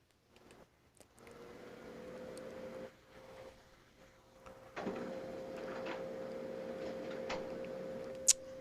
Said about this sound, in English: That's my printer.